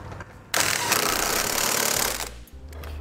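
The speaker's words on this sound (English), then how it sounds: "on the passenger side, I'm going to be using a 16mm socket to tighten up my bolts." A power tool drives a 16mm socket to tighten Curt trailer hitch bolts on the passenger side of a 2013 Land Rover Evoque, giving a loud, steady whirring burst of about two seconds between quieter pauses.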